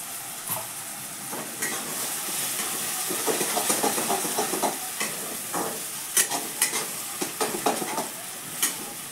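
Ground masala roasting in a pan after tomato, a steady soft sizzle with a spoon stirring and scraping in irregular clicks, close by.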